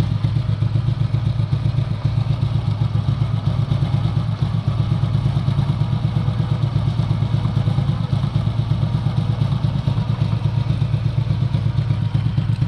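A carbureted motorcycle engine idles steadily and loudly throughout while its carburetor RPM is being adjusted, a continuous close chugging rumble with faint clatter and no speech.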